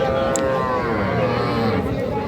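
At a busy cattle market at Aftabganj haat, a cow with her young bull calf lets out a long, low, sustained moo up close, with faint crowd chatter behind.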